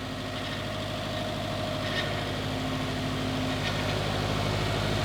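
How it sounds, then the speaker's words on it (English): A Subaru STI engine runs at a steady idle, loud and close, with a continuous whirring whine from the power steering pump layered over the low rumble. "We got a little noise coming from, I believe, the power steering pump."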